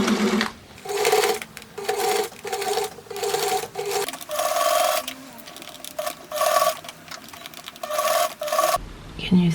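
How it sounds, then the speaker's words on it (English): A sewing machine stitches along the crease of a pair of pants in repeated close runs of rapid, steady whirring, each burst stopping briefly before starting again. "and now I'm gonna be sewing just here in the crease"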